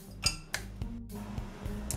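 Chocolate is snapped into pieces in a dish for ganache, giving several sharp cracks and clinks against the dish over a low steady background hum.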